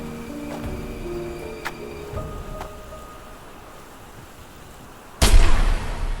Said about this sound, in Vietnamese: Mình vừa nghe tiếng súng đấy